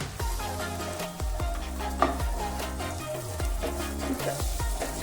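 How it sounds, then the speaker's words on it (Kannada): Chopped small onions fry in two spoons of oil, sending up a steady close sizzle while a spoon or spatula clinks and scrapes against the pan at intervals. "ಇವಾಗ ಈರುಳ್ಳಿ ಹಾಕ್ತೀನಿ"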